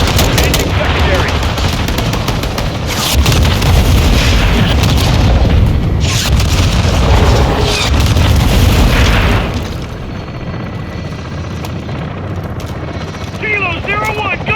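In a Modern Warfare 2 campaign mission, an air-support gun run pounds the ground with loud, rolling booms and bursts of heavy gunfire for about ten seconds, then eases into quieter rumble with radio voices over it.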